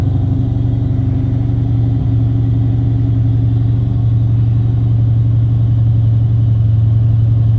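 A 2003 SVT Cobra engine turns over and runs, a loud, steady low rumble up close that holds constant throughout with a faint pulsing texture.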